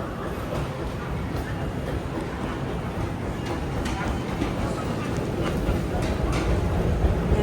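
A Japanese village train rumbles steadily in a dense, even roar that carries through the whole stretch, with faint rattles and no clear voices.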